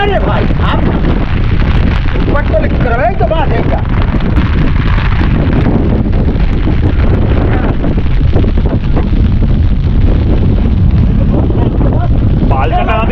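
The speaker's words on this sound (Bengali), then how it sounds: "বোঝা যাচ্ছে কতটা হাওয়া হ্যাঁ" Strong storm wind batters the microphone on a sailing fishing boat on a rough river in heavy rain, a loud, constant roar and buffeting throughout, with voices faintly under it.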